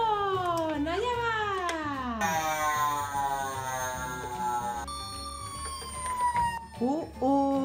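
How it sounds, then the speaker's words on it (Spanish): A toy police car siren wails in rising and falling electronic sweeps, followed by a long steady tone. A narrator talks over it throughout. "Parece que el siguiente vehículo también lleva sirena."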